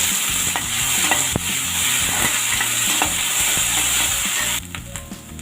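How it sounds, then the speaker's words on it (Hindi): Chopped onion sizzles steadily in a hot pan for lauki kofta curry, a loud continuous frying hiss with occasional stirring scrapes and clicks, easing slightly near the end; no voices. "अब हम इसमें ऐड करेंगे कटा हुआ प्याज, इसको थोड़ा सा भूनेंगे"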